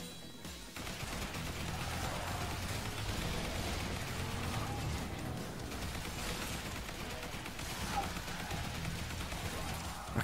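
Sustained assault rifle gunfire in the zombie survival video game Yet Another Zombie Survivors, a dense, continuous crackle of rapid shots and impacts filling the whole stretch at steady loudness.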